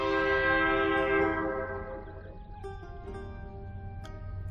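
A train horn blows loud and long, a sustained harmonic blast that swells for a little over a second and then slowly fades into a rumbling background with a few faint clicks.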